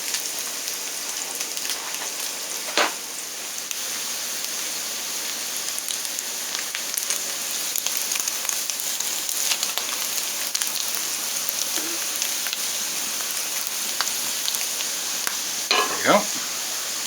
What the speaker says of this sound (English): eggs whipped up, rice standing by, and we are browning our Spam